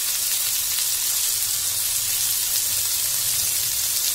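Oil sizzling on a hot dosa griddle while prawns fry for a curry leaves prawn chilly dish, a constant bright crackling hiss, close and even throughout, with no talk.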